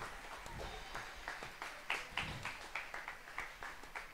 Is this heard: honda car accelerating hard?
no